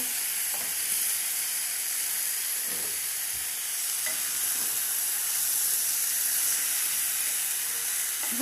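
Chicken roast gravy sizzles in a hot pan while being stirred, a loud, continuous hiss and fry with occasional soft scrapes of the spoon and no talking.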